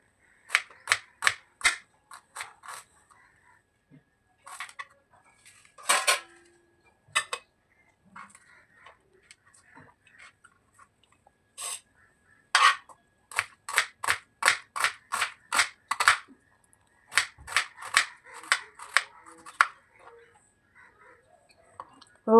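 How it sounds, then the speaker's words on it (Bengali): Three large onions being finely chopped with a knife on a board: quick, crisp chops in rhythmic bursts separated by short pauses, close up and clear. "ভালো করে কুচি কুচি করে কেটে নিচ্ছি।"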